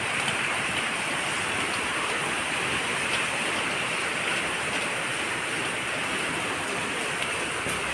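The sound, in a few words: rain falling with wind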